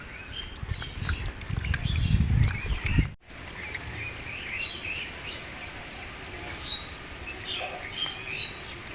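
Rohu fish head rinsed in water, with soft splashing and trickling that swells for a few seconds and then settles into quieter dribbles and small clinks, with faint bird calls in the background.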